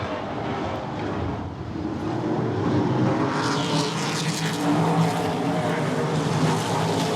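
Late model stock cars racing around the I-94 Raceway oval during an ASA Late Model Challenge Series event, a loud sustained roar of several engines passing near, with a commentator's voice faintly beneath.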